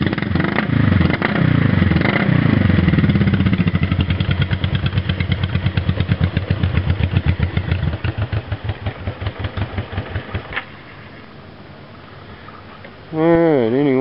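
A 1970s Honda CB350 or CB360T twin motorcycle engine runs after a start, a loud close rumble settling into an uneven, pulsing idle that sputters and dies, then a brief revving burst near the end.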